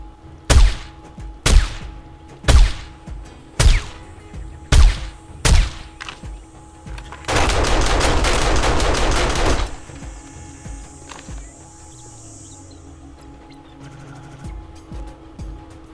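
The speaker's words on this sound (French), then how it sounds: "ma tour elle a tiré, mais je sais pas sur quoi" A defensive turret in the zombie survival game 7 Days to Die fires six single heavy shots at a steady pace, then lets off a dense sustained burst of rapid fire lasting a couple of seconds before fading.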